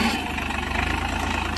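A Swaraj 855 4 Star tractor idles during a wheat harvest with a reaper binder, giving a steady, close, low rumble with a fast, even pulsing throb and no break.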